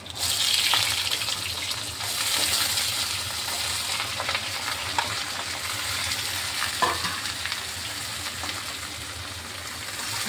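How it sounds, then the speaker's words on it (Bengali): Green chili and black cumin frying in hot oil with vegetables tossed in and stirred, a steady close sizzle with scraping stirs throughout. "লঙ্কাটা আর কালো জিরাটা আমি ভালোভাবে ভেজে নিচ্ছি।"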